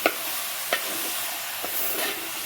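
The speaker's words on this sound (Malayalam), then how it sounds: "തയ്യാറായ കായ നമുക്കതിലേക്ക് ചേർക്കാം അത് നന്നായി ഇളക്കാം" Raw green plantain slices with dried red chilli sizzle faintly in a pan during village-style cooking, with a few soft scraping stirs of a spoon breaking through the steady frying hiss.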